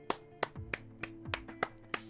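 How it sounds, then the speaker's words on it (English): Seven crisp hand claps land close and evenly spaced in a quick, regular rhythm, each a sharp isolated smack against a quiet background. "I clap for the manga."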